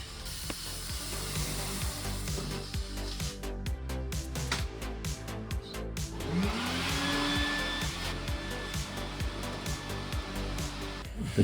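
Cordless drill spinning a cleaning brush through an 18-foot dryer exhaust vent, a steady whirring hiss with rattling and scraping throughout, the motor pitch rising as it revs partway through.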